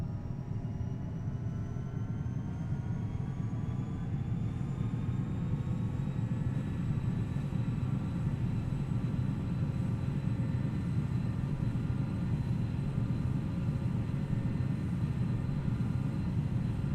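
Jet engines of a Bombardier Challenger 300 business jet run at full throttle on the runway in X-Plane 11, a loud steady low roar with rising whining tones that climb gradually throughout.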